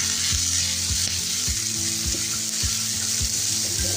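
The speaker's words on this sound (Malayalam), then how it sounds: "കുറച്ച് കറിവേപ്പിലയോട് ചേർത്ത് നമുക്കൊന്ന് വഴറ്റിയെടുക്കാം." Sliced onions with crushed ginger, garlic and curry leaves sauté in oil for a Kerala pork curry, giving a steady close sizzle with soft, regular scrapes of stirring throughout.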